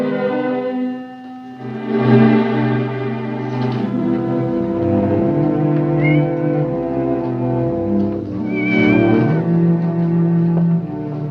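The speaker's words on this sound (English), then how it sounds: "Nice, kitty." A cat meows several times in a classic western film, short rising cries heard faintly over steady orchestral music with no talk.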